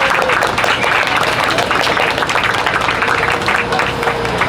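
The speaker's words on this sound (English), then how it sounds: "Let's give an applause." Audience applause at a medical innovation event in Manta fills the room with dense, loud, continuous clapping that holds steady from start to finish.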